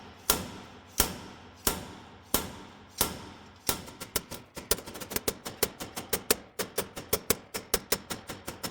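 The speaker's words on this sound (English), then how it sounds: "Grab yourself a slide hammer and we're going to slide hammer this out" A slide hammer knocking a rusted pivot bushing out of a Case IH Patriot sprayer boom: four slow, heavy metallic strikes, then a quicker run of sharp, evenly spaced impacts, close and alone.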